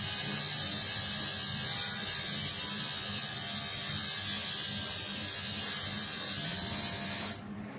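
Steady buzzing whir of a trimmer cutting nose hair in a barber salon, loud and continuous throughout before cutting off abruptly near the end.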